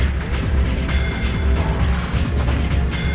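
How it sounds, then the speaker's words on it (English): Gunfire mixed into the music soundtrack of the video game Zone of the Enders: The 2nd Runner, a dense, steady stream of rapid cracks and thuds over a loud, constant bed of sound with no pauses. "I don't know why gunfire is incorporated into the soundtrack there."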